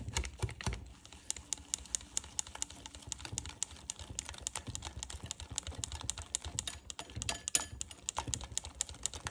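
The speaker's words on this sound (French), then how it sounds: "On mélange tout ça au fouet manuel jusqu'à ce que ce soit bien lisse." A hand whisk beats gluten-free bread batter with oat bran in a bowl, giving faint, rapid, steady clicking taps throughout.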